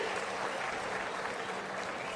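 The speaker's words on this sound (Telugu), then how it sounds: "చప్పట్లు కొట్టి మీరు కూడా అభినందించండి" Applause from an audience at a government review meeting, an even, sustained wash of clapping hands at moderate level with no speech over it.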